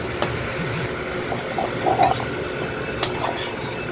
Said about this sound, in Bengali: এগুলো একটু লাল লাল করে ভেজে নেব, আদা রসুনটাও